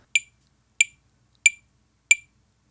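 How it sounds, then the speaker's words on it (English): A metronome click-track app plays a little electronic blip, four short bright beeps at a steady, even tempo, close and clean against silence. "You can select, I like the little blip thing, sounds like this"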